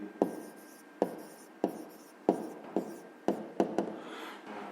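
A pen writes on paper while working a fifth-grade math exercise, giving close, quiet scratchy strokes in irregular bursts with small taps between them, and no talking.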